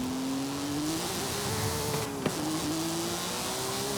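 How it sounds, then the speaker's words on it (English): Porsche 911 engine from Forza Horizon 5 droning steadily as the car drives, pitch rising gradually through a gear with a brief dip, continuous and close. "The car actually drives really nicely."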